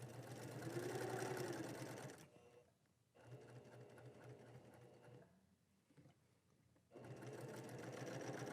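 Sewing machine stitching the lining of a fabric face mask, running in close, steady bursts with a brief pause and a quieter stretch midway before the loud whirring resumes.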